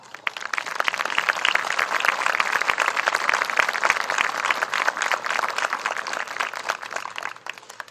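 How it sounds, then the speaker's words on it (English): Applause for faculty and staff at a university commencement ceremony, a large audience clapping steadily and densely for several seconds before fading at the end. "Let's give them a big round of applause."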